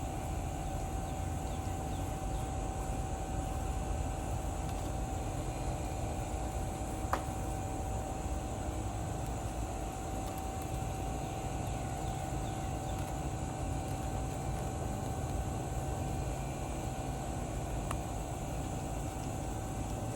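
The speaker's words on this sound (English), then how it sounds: "And my smoker's still going in the background." A barbecue smoker running during a rib cook, a steady low hum and faint broadband hiss that hold constant throughout, with a couple of tiny clicks, heard alone with no talking.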